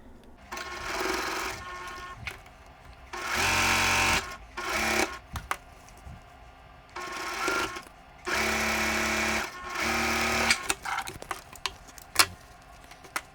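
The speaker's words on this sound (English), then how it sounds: "We're going to go ahead and stitch our quarter square triangle pinwheel blocks" A sewing machine stitches quarter-square triangle pinwheel quilt blocks in several short bursts of close mechanical whirring, with light ticks and clicks of handling between the runs.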